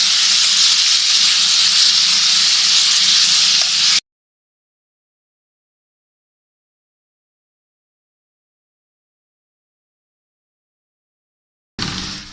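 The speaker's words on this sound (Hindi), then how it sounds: "इसके बाद हम इसमें डाल देते हैं खुबानी। तो थोड़ा सा फ्राई कर लेते हैं तेल में।" Apricots frying in hot oil give a loud, steady hiss and sizzle up close, which cuts out abruptly into silence and briefly resumes at the end.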